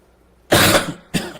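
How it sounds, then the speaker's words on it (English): A person coughs hard and close to a microphone, one long harsh cough followed by a shorter second burst, during live severe-thunderstorm-warning weather coverage. "I'm so sorry you guys heard a full-on cough"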